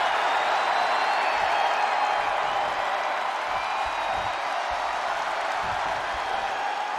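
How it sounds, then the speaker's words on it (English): A wrestling arena crowd in the WWE 2K20 video game roars and cheers steadily throughout, a dense, loud wash of noise with no break. "And this crowd's starting to perk up, Michael."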